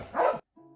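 A single short, loud dog bark close by, followed after a brief silence by a faint tonal trailing sound.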